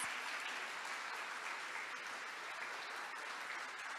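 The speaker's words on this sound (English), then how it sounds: "Let's give her a big round of applause." A room full of people applauds after a NASA ambassador's talk, a steady, even wash of clapping heard at some distance with no voices over it.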